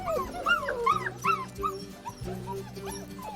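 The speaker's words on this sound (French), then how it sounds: "C'est des tout petits qui ont les yeux bleus et qui sont trop chou et qui n'arrêtent pas de chouiner." Young blue-eyed puppies whine and whimper continuously in high, wavering cries, several overlapping voices close by.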